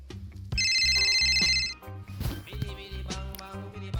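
Telephone ringing while a call is placed, with a bright electronic ring tone repeating in bursts over background music.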